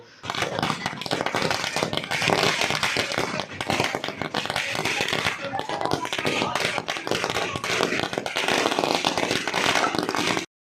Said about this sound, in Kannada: ಅಭಿಮಾನಿಗಳು ಹೆಬ್ಬಾಲೆ ಸರ್ಕಲ್ನಲ್ಲಿ ಪಟಾಕಿ ಸಿಡಿಸಿ ಸಿಹಿ ವಿತರಿಸಿ ಸಂಭ್ರಮಿಸಿದ್ರು.